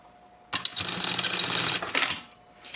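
A sewing machine runs in a fast, rattling burst of about one and a half seconds, backstitching synthetic fabric beside a zipper on a school pencil case, with a short pause and restart near the end.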